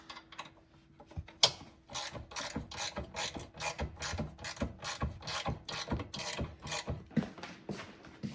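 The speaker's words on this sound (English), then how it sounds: "So, grab a wrench," A hand ratchet wrench clicks rapidly in repeated bursts while tightening the bolts of a 20-inch light bar bracket on a lowered 6.0 Power Stroke truck, close and clear with no talking.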